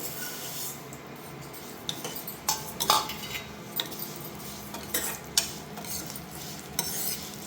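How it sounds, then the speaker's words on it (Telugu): Vermicelli (semiya) frying in ghee in a pan for semiya payasam, stirred with a spoon: scattered metallic scrapes and taps of utensil against pan over a faint, steady sizzle, fairly quiet and close. "ఇప్పుడు అదే నెయ్యిలో మనం తీసిన సేమియా కూడా వేపుకుందాం."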